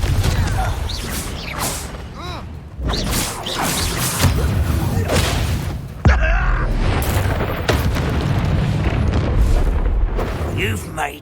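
Explosive boom of the Confringo blasting spell in the Hogwarts Legacy video game during a duel, loud bursts among continuous combat effects and clashing game sounds.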